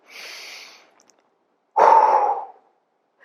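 Deep, audible breaths during a floor core exercise, an airy exhale, a pause, then a stronger, louder breath out lasting under a second, close and with no talking.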